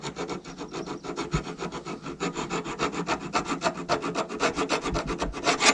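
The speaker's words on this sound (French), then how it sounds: "si vous prenez un tournevis et que vous venez frotter vraiment dessus" A screwdriver scrapes back and forth across the rust-eaten metal floor of an E30 car, a close, steady rasping rhythm of rapid strokes with no talking.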